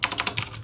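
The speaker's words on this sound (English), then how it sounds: "this could be me typing" Fingers tap quickly across a computer keyboard, a close, steady run of about eight crisp keystrokes with no speech.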